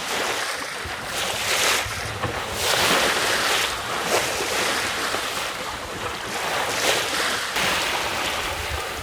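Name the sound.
wind and waves on a sailboat at sea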